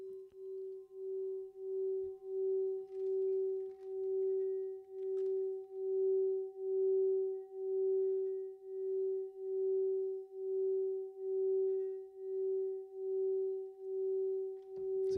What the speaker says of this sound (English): why I called this one the singing bowl is this particular bowl for a Himalayan bulb sings really well